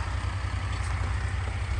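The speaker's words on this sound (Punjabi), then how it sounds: "ਸਾਹਮਣੇ ਚੱਲੀ ਜਾਂਦੇ ਟਰੈਕਟਰ" A steady, loud diesel engine drones with a low rhythmic thrum, like a tractor running close by, with no voices over it.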